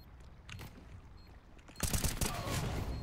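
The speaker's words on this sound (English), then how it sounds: "Bullets!" A burst of rapid gunfire erupts partway through a Counter-Strike: Global Offensive match, loud and dense after a quieter start with faint background noise.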